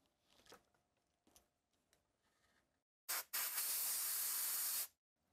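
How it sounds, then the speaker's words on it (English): Compressed air sprays onto A1990 MacBook power-button parts after an alcohol cleaning: a brief puff, then a loud, sustained hissing blast of nearly two seconds, preceded by faint handling clicks. "And I could dry it with some compressed air."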